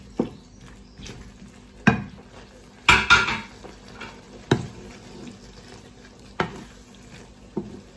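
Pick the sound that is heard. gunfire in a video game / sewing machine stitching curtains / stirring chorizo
stirring chorizo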